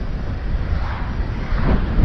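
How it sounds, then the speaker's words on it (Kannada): Strong wind on a hill road at Male Mahadeshwara Hills, Chamarajanagar, buffeting the microphone in a loud, continuous low roar. "ಗಾಳಿ ತಳ್ತೈತೆ ನಮ್ನ"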